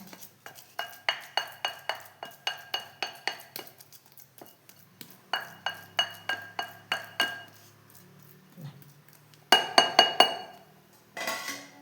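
Glass and metal lids closing on containers during home cooking, a run of sharp clinks and clatters in quick bursts with brief pauses, close and clear.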